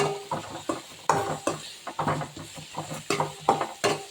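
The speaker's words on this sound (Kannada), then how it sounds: "ಚೆನ್ನಾಗಿ ಎಣ್ಣೆಲ್ಲ ಹುರಿಬೇಕು" Radish greens fried and stirred in oil, heard as a steady rhythm of scraping spatula strokes against the pan over a soft sizzle, close up with no talking.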